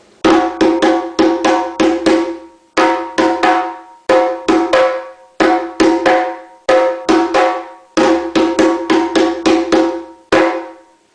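A djembe hand drum plays a repeating accompaniment pattern of quick slaps and tones in grouped phrases, loud and close, with no voices.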